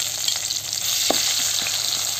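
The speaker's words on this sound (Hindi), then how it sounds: "प्याज पकाबी।" Onions fry in hot oil with a bay leaf for a country-style chicken leg curry, producing a close, loud, steady sizzle with occasional small pops and no voices.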